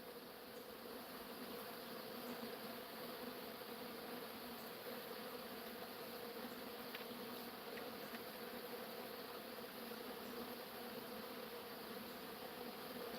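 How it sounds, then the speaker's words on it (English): Honeybees swarming all around at an outdoor bee gathering, a steady, dense buzzing hum that fills the air without pause, with a few faint individual bees passing close. "Can you hear these bees buzzing?"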